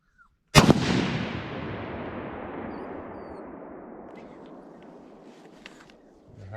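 A single loud gunshot rings out during target shooting outdoors on a farm, with a sharp crack followed by a long rolling echo that fades over several seconds.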